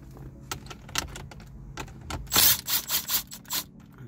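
Small screws being driven out of a 2013 Cadillac ATS car radio with a 7mm socket on a driver, giving a few short clattering bursts and a run of rapid rhythmic ratcheting pulses near the end, close and fairly loud.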